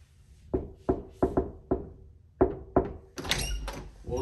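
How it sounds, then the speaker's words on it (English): Knocking on a bedroom door: seven firm, hollow thuds in an uneven rhythm, close and loud, followed by a brief rattling scrape of the door moving. "knock on the door like MTV Cribs"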